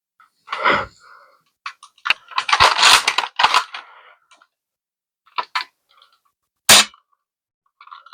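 A Ceda S foam dart blaster fires a series of darts: sharp pneumatic pops with airy bursts, some in quick clusters and others spaced apart, loud and close in an otherwise quiet room.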